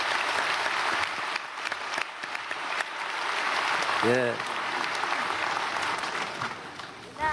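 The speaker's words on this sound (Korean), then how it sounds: "헝가리에서 오신 지도자들에게 박수하겠습니다." A large audience at an early-morning church prayer service applauds leaders visiting from Hungary. The clapping is steady, dense and sustained, with a voice briefly heard over it midway.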